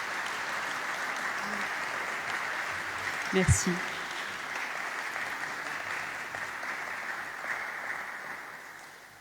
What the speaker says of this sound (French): je pense qu'on peut applaudir la sœur pour son intervention